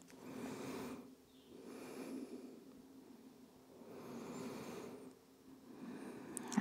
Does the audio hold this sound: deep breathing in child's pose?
yes